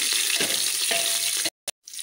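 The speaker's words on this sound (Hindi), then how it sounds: "अब सोयाबीन को हम थोड़ी देर भून लेंगे।" Boiled, squeezed soya chunks (Nutrela) frying in a pan: a dense, bright hiss with faint stirring, cutting out abruptly near the end before briefly returning.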